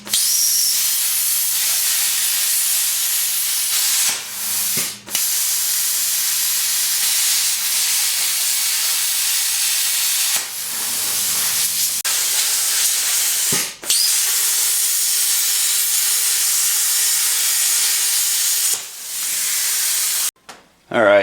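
A cutting torch hisses loudly and continuously while slicing steel to make new leaf spring pads for a Bronco II, broken by brief pauses and short gaps between cuts.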